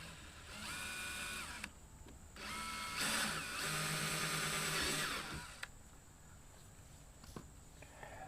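A handheld power drill with a 1/4 inch bit drills holes in a 2019 Ford Ranger mud flap, whirring in a few bursts, revving up and down, with short pauses and faint handling clicks between.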